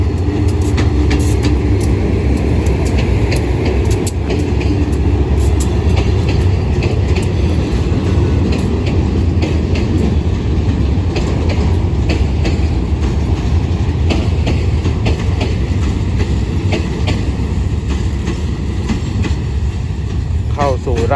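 A freight train, number 4523 carrying stone and containers, rumbles steadily close by entering platform 1 at Surat Thani station, Thailand, a continuous low roar with scattered metallic clatter and squeal, voices murmuring faintly beneath.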